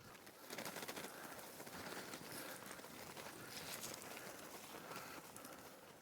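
Pigeons coo at a ranch in Merced during bird banding, a steady busy chorus of birds with scuffling and movement close by.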